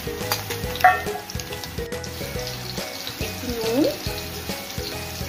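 Boiled soybean chunks frying in hot white oil in a wok, a steady soft sizzle with light clinks and scraping throughout, close and moderately loud, with no one talking.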